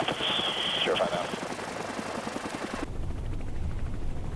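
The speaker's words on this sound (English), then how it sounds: "As the chopper heads back to land" A Coast Guard helicopter flies back to land from a ship that has lost all power, its rotor chopping in a rapid steady pulse while radio-style speech runs over it.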